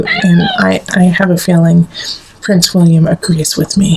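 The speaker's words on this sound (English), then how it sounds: "you can hear our little kitty talking to you too" A pet cat named Prince William meows several times in short bursts, close by, interleaved with and partly under a woman's steady speech indoors.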